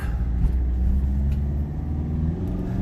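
A Toyota Town Ace diesel 4x4 turbo van pulls through its gears, a low rumbling engine note rising and holding in a steady, fairly close drone from the cabin.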